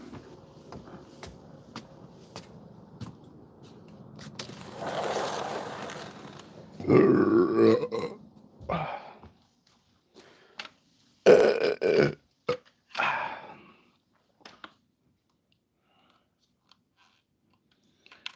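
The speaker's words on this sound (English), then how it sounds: "Burp a lot or burp a little?" A man's burps during a night bowhunt outdoors, several loud, throaty bursts in irregular clusters separated by quiet pauses, with small clicks and rustles between them.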